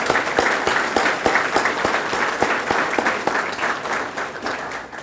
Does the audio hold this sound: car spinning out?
no